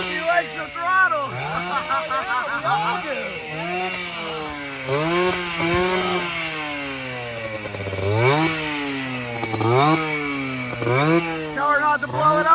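A 1982 MB5 motorcycle engine is blipped again and again, pitch climbing and falling with each throttle twist, loud and near, while voices chatter over the revs.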